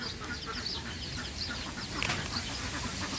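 Small chicks peeping in an outdoor garden where a jackfruit tree is being planted, with a steady chorus of faint, high chirps over low background noise.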